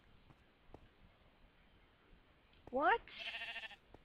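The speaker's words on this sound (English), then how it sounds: "Is there a sheep up there?" Sheep bleating in a video game, a short wavering bleat of rising tones followed by a brighter burst, standing out over quiet background noise, with a voice briefly speaking.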